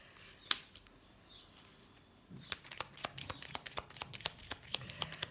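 Tarot cards shuffled and drawn by hand: a few soft taps and slides, then a quick run of crisp flicking card snaps, close and fairly quiet with no voice.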